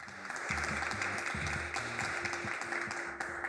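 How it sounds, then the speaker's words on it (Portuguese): A small group of three teachers and two others clap together in a room, light, fairly close applause running steadily, with a repeating low musical pattern playing underneath. "As 3 professoras e 2 pessoas assistem e aplaudem."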